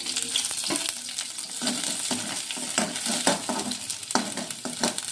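Curry leaves and green chillies sautéing in oil in a pan, a steady sizzle punctuated by frequent quick scraping strokes of the spoon, close and moderately loud.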